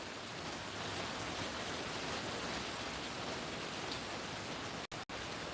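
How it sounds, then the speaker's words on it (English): A river rushes near a desert homestead, a continuous broadband wash of water that holds steady and close, cut by two brief dropouts near the end, with no one talking. "it's the river for sure"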